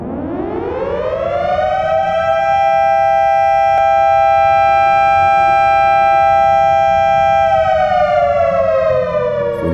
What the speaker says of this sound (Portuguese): O som de uma sirene parecia tocar do lado de fora e incessantemente